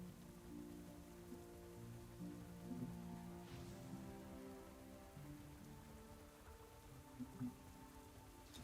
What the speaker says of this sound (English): Is the rain getting more and like just like it's just getting denser?